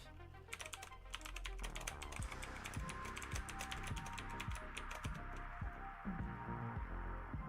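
A password is typed on a computer keyboard in a steady, rapid run of close key clicks and clacks over several seconds, with a faint background hum and no talking.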